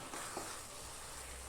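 Masala with curry leaves and green chillies for a chicken roast crackles in a pan with a faint, steady sizzle and a light scrape of stirring early on.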